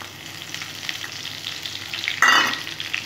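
Whole cumin, two dry red chillies, cardamom, cinnamon and bay leaf crackle and sizzle in hot oil, a steady close frying hiss that flares louder with a sharp burst near the end, no voices.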